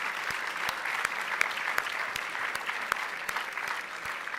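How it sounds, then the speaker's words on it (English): Guests at a MALDEF gala in Washington, D.C. give a sustained round of applause for the guest speakers, a steady wash of many hands clapping across a large room, with no speech over it. "let's give a big round of applause to each of our guest speakers."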